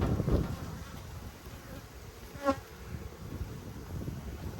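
Honeybees crowd the bottom box of an open, re-queened hive during an inspection, giving a steady, fairly faint buzz with light wind noise and a brief louder pass of a single bee midway.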